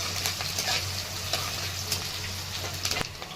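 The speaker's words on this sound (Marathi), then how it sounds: "कढीपत्ता कांदा छान परतून घ्यायचा" Curry leaves and onion for a potato sabzi sauté in hot oil in a pan, a close, continuous sizzle and crackle with occasional scraping stirs and a low steady hum, no speech.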